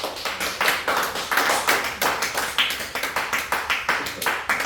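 A congregation claps together in steady, rhythmic unison at a church service, the rapid even claps forming a loud, continuous patter with no voices over it.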